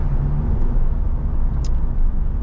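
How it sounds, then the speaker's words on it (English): A steady, low engine rumble from inside a 2007 Mitsubishi Eclipse SE, constant and fairly loud, with a brief faint higher squeak partway through. "you get engine noise in this car"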